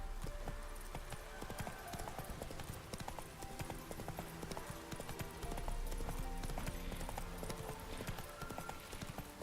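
Roach the horse trots in The Witcher 3, hooves clopping in a steady, quick rhythm under a dense layer of game sound effects and ambience, fairly faint overall.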